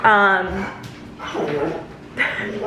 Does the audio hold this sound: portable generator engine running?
no